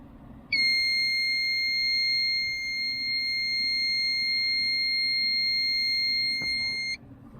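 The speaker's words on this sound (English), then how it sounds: "And then there should be one more beep that's long." A single steady high-pitched electronic beep from a Toyota Corolla during key programming sounds continuously for about six seconds, then cuts off abruptly over a quiet background.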